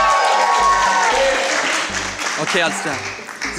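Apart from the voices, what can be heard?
audience applause at a school talent show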